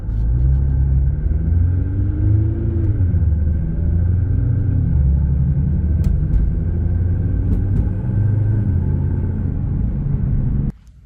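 A 2015 Nissan GT-R Premium engine rumbles loudly up close, rising and falling through a few revs with faint sharp clicks, then cuts off abruptly at the end.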